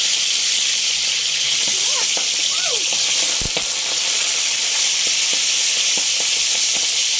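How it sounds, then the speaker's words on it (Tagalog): Milkfish (bangus) frying in a hot pan gives a loud, steady sizzle with crackling pops and spatter throughout, and a voice speaks briefly over it. "Kasi takot ako magprito ng bangus."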